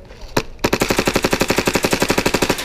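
A gun firing a rapid, steady string of about twenty-five sharp, evenly spaced shots, loud and close after one lone opening shot. The firing is not full auto.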